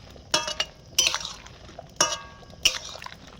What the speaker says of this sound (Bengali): এটা ধুয়ে নিচ্ছি গরম জলে